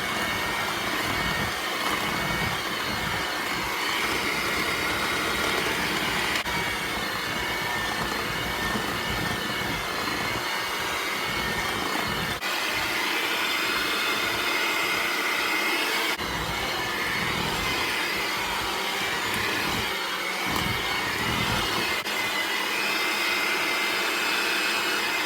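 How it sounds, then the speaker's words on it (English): An electric mixer on low speed blends powdered sugar into cream cheese frosting for red velvet cupcakes, a loud unbroken motor whir with a faint rhythmic beating texture held steadily throughout. "And I turn my mixer down to low so that way"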